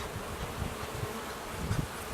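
Dense, steady buzzing of honey bees inside a full hive, a continuous close drone with small pulses of louder wingbeats and no talking.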